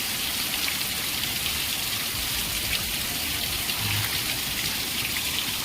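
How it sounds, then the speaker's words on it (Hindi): Steady night rain falls in a dense, even hiss of drops spattering on surfaces, constant and unbroken throughout, with no voices over it. "वर्षा पानी"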